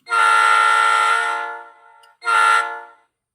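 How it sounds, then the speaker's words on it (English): Horn of a Scale Trains Southern Pacific SD40T-2 model locomotive, one long loud blast followed by a shorter second blast, close and alone. "F2 is the horn."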